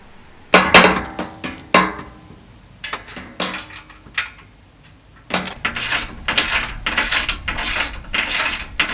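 A ratchet tightens bolts on a heavy MetalCloak Under Armor armored skid plate on a Jeep Wrangler JL, giving close, loud bursts of rapid clicking in an uneven rhythm with short pauses, then steadier ratcheting toward the end. No one speaks.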